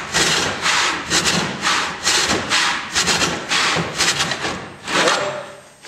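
A hand saw resaws a wooden board clamped in a vise, with loud rhythmic rasping strokes back and forth, close and steady, slowing to a stop at the end.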